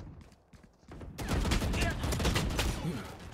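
Rapid bursts of gunfire in the Valorant video game, a dense, loud volley of shots swelling after a quieter start, with game noise beneath.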